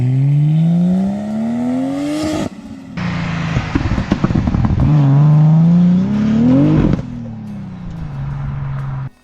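A turbocharged Mercedes M104 engine fitted in a Lexus IS200, running low boost, revs up loudly in rising sweeps, drops briefly, then climbs again through two strong pulls before settling near idle.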